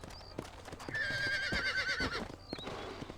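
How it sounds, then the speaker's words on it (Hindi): A horse in the video game Red Dead Redemption lets out a clear, drawn-out whinny over quick, rhythmic clip-clop of galloping hooves. The sound is moderately close, with faint game ambience around it and no talking. "इससे उछाल रहा है घोड़े को।"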